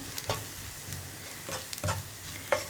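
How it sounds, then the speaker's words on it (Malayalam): A spoon stirs spice powders in a pan over a medium flame while making a beans and potato masala, giving a few short scraping strokes over a soft sizzle. "ഒരു 2 മിനിറ്റ് മീഡിയം ഫ്ലെയിമിൽ വെച്ച് ഇളക്കി കൊടുക്കുമ്പോൾ പൊടികൾ കുക്കായിക്കോളും"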